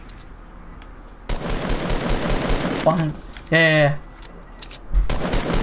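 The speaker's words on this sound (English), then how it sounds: "I'll just minigun everything." A minigun fires in Fortnite, a dense rattling stream of rapid shots that runs for several seconds up close, broken by a short distinct burst, while a player speaks briefly.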